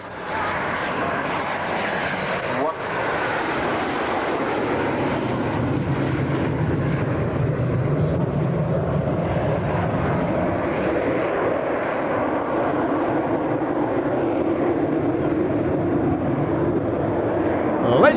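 A Canberra B6 jet at the Manchester Air Show roars steadily and loudly for a long stretch, a broad sustained engine rush heard from a distance.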